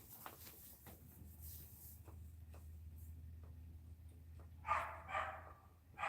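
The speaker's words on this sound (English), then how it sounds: "dogs are killing me. The rabbits are over there messing with them" Dogs bark and yip a few times in quick, fairly close bursts near the end, following a stretch of quiet low background hum.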